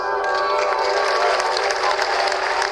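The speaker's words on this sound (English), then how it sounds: "They dubbed in the applause afterwards." Dubbed-in applause from the video game Contradiction, a continuous bright wash of clapping that stays even and loud from start to finish with a faint tonal ring underneath.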